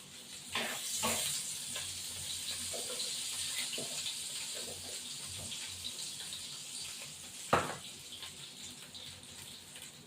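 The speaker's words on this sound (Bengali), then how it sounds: "তেল দেবো দিয়ে এলাচ তিনটে আমি দিয়ে দেবো" Three cardamom pods dropped into hot oil for Bengali prawn malai curry give a steady close sizzle and crackle, with a brief sharp pop partway through and faint clinks of a utensil, no talking.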